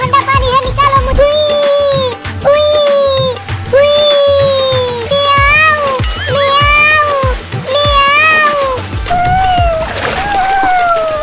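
A cat meows repeatedly in long, drawn-out, insistent cries, loud and close, with some water splashing and sloshing between the calls.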